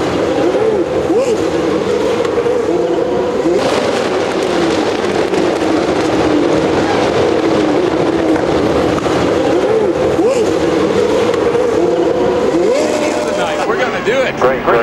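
A pack of race cars roars away at the green-flag start of a motorsport race, a loud sustained engine blare with rising and falling whines, under an excited commentator's voice.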